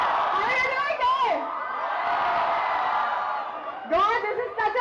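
A massive college crowd at Mithibai College roars, cheers and whoops continuously for a Bollywood star appearance, loud and sustained with high shrieks rising and falling throughout.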